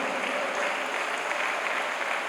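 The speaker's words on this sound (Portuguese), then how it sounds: "aplauda ao Senhor" A church congregation claps together in a steady, dense round of applause that fills the room for a couple of seconds.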